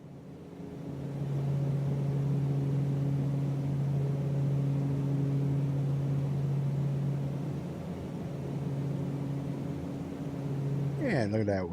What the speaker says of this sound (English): Just kick out the sounds of the engine just a little bit.